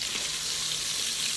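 Hungarian pot roast meat sears in a hot pot, producing a dense, even hiss of fat and juices that holds steady and fairly close throughout, with no talking.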